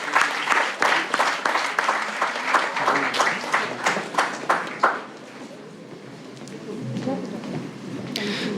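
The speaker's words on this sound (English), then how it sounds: "Can we have a loud round of applause?" Audience applause at a student short film festival event, a dense burst of clapping for about five seconds that then dies away into room murmur.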